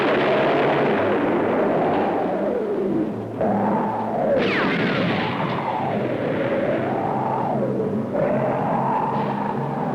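Army tanks and bazookas firing in a battle sound effect, a dense continuous roar of blasts and rumbling with wavering siren-like whines and no pauses, loud throughout.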